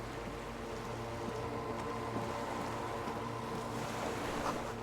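Steady wash of water and lapping waves along a shoreline in Disco Elysium, a continuous low rumble of surf with faint wind, unbroken and even throughout.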